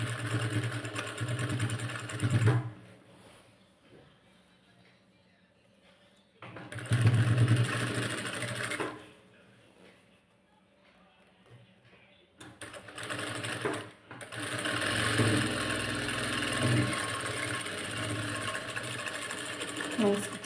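A sewing machine stitches a blouse in three bursts of steady motor hum, separated by quieter pauses where a person talks over faint background.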